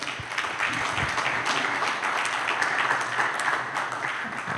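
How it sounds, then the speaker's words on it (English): An audience at a 2021 business conference in Columbus claps for panelists, a dense, steady wash of applause from a room of people that holds at an even level throughout. "So please give our panelists a round of applause."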